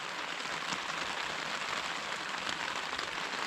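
Rain pours down in a storm, a constant close hiss of drops pattering on surfaces, unbroken and even throughout with occasional slightly sharper splashes.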